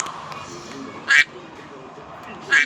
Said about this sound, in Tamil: அதனால் வாத்து மாதிரி சவுண்டு வச்சுருக்கீங்க